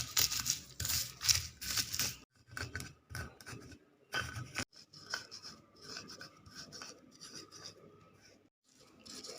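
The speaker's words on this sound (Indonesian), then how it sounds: "Ini saya mau ulek, tapi kalau mau digiling juga bisa" Peanuts are crushed with a mortar and pestle (ulek), producing rhythmic rasping and grinding strokes up close, in bursts separated by brief pauses.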